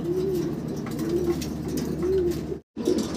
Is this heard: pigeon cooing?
yes